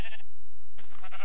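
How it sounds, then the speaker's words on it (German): Sheep bleating in the video game Minecraft, two short close bleats, one at the start and one near the end, separated by a near-silent gap. "Und da ist ein Schaf."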